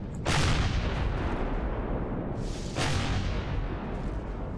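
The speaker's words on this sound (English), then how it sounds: "hopefully, with a few rockets, and get rid of these turrets like that" Rockets fired at enemy turrets in the Empyrion Galactic Survival video game, two heavy booming blasts a few seconds apart over a dense rumbling roar, loud and close.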